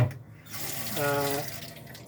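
Water runs from a hand pump into the stainless double sink of a 39-foot cruising yacht, a steady close splashing stream that rises slightly midway, with no talk.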